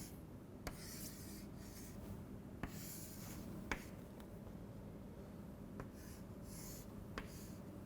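A pen scratches and rubs across paper, drawing a JFET schematic in short strokes with a few sharp taps between them. It is very faint, close and quiet, with no talking.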